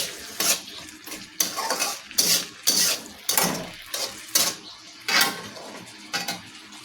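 Egg cooked with salt and spices being stirred in a pan, a rhythmic series of sharp scraping clatters from a spoon against the metal over a soft sizzle, loud and close with no talking.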